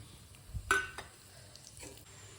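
Biryani spices frying in a little oil for mutton keema curry give a soft sizzle, with a spoon stirring and clinking against the pan a few times, close and quiet with no talking.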